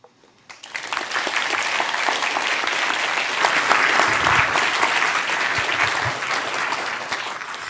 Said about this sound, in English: Another round of applause for Make Dear